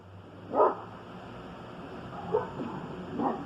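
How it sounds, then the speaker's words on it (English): Dogs bark at a poodle being walked past, three separate sharp barks spaced apart over a steady low background, somewhat distant. "walks his poodle by and makes my dogs bark"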